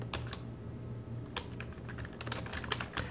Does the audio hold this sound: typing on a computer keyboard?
yes